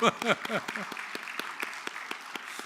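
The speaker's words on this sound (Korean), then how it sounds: "박수." Church congregation applauding during a Sunday service in Southern California, starting with a few loud close claps mixed with brief voices, then thinning into scattered, sparse clapping that continues quietly.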